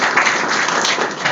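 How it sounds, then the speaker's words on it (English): Audience applause for the sponsors at an Office 365 conference keynote in San Diego, a dense, steady burst of clapping from a crowd indoors, heard briefly and fairly loud. "Let's give them all a round of applause."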